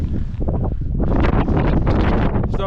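Strong wind buffets the microphone on the Y Garn mountain summit, a loud, close, gusty roar with rustling bursts rising and falling throughout, with no talk.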